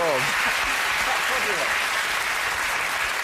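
Studio audience applause on a British TV comedy panel show, loud and steady throughout with a host's voice briefly over the start of the clapping.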